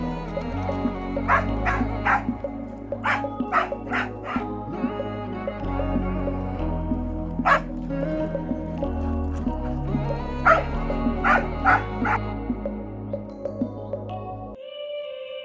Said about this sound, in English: we let the dogs run around free and they think it's so fun